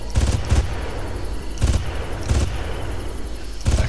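Gunfire in the video game Far Cry, several loud separate shots and short bursts spaced irregularly across a few seconds, heavy and close over a constant background roar.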